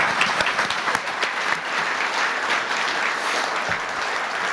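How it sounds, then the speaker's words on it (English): Warm, continuous applause from a breakfast event audience for a panel, many hands clapping densely with a few sharper claps near the start, steady and moderately loud. "So let's give them a big round of applause as well"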